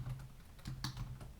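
Quick keystrokes on a computer keyboard, a few soft clicks in a short burst with a low steady hum underneath, close and fairly quiet.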